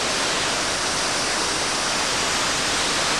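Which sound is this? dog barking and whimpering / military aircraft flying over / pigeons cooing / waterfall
waterfall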